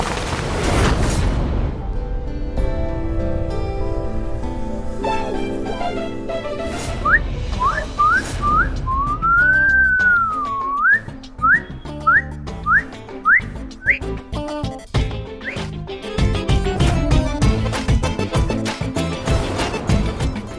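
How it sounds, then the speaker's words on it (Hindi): Young men whistling by mouth at an attractive woman, a run of short rising and swooping whistles over background music, mostly brief repeated bursts with one longer wavering whistle, fairly loud and close. "अब सुंदर नारी को देखकर लड़कों के मुंह से सीटी निकल जाती है"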